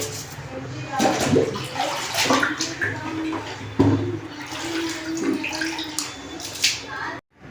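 Running water splashing and pouring during house cleaning and washing, a loud irregular gush with clattering handling noises, while a person speaks intermittently over it.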